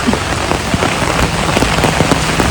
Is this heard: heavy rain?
yes